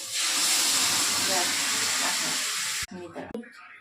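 Dal is poured onto fried green jackfruit in a hot pan, giving a loud, close burst of hissing sizzle that cuts off abruptly after a few seconds, followed by brief clattering and bubbling.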